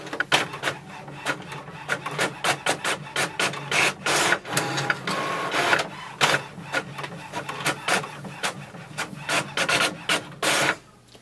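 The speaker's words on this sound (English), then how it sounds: "it will send a command for the printer to print the page" An HP OfficeJet 8013 wireless printer prints a page, with a rapid run of clicking, whirring carriage passes and feed rattles close up, no talk.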